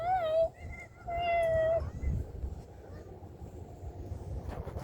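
A cat meows outdoors during a walk, two drawn-out, tonal meows close by in quick succession, followed by wind rumble and faint rustling footsteps.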